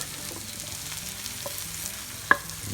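Caramelized onions are stirred and scraped out of a hot frying pan into a bowl, a steady soft sizzle under a few light utensil scrapes and one sharp clink against the pan.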